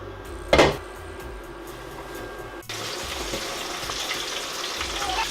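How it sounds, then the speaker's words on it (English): A short clatter, then a loud, steady sizzle of coated chicken deep-frying in a deep pot of hot oil starts abruptly and carries on without a break. "So I'm frying them in a deep pot so the oil can cover them evenly."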